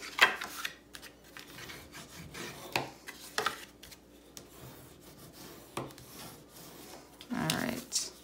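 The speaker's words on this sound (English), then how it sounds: "So now we'll go through and we will burnish them down" Paper pages of a mini album being burnished down by hand, scattered dry rubbing and scraping strokes of varying length, close and moderately quiet, with a longer rub near the end.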